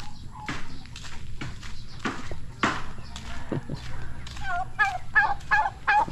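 Turkeys at a home calling with repeated short gobbling honks and clucks, close and fairly loud, mixed with scuffling steps and other yard sounds.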